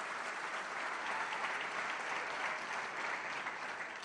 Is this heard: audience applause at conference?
yes